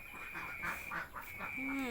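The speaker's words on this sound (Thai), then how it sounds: "เสียงเป็ดก็เพราะเสียงเป็ด" A few short nasal quacks from a duck sound close by over a steady background hum, with a brief rising call at the end.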